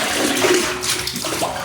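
Water gushes steadily into a drum outdoors on an island, a continuous rushing, splashing flow heard up close.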